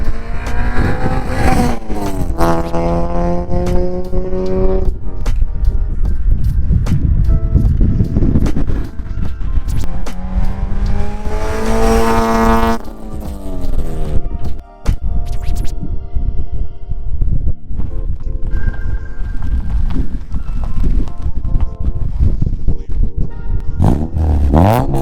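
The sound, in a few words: car drive-by with 3 inch single TSX cat-back exhaust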